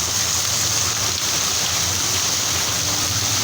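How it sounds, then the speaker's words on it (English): A water fountain splashes in a steady, unbroken rush of falling water, loud and close throughout with no pauses. "You see, water fountain, sound of water fountain"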